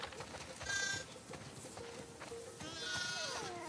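Sheep bleating on a farm in The Last of Us Part II, a few distinct bleats rising over a soft ambient background, fairly faint and without talk.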